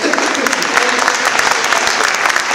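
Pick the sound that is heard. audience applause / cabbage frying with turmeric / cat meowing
audience applause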